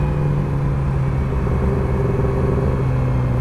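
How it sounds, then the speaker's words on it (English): Yamaha R6 motorcycle fitted with a full exhaust system, riding at night: a steady low engine drone and rumble, even in level and fairly close, with no talk over it. "I like forget that a full system on an R6 is like actually loud"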